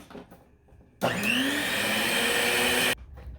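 An electric hand mixer whirs loudly and steadily through orange cake batter with orange juice, starting abruptly, running about two seconds with a slight rising pitch, then cutting off.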